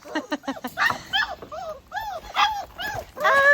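Puppies whimpering and yipping close by, a rapid string of high, wavering cries with short pauses between them.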